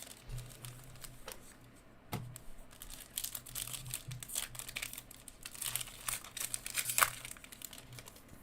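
Foil Garbage Pail Kids 40th Anniversary card packs crinkle and tear open at a desk, close and continuous, with repeated crumpling bursts and sharper rips scattered throughout.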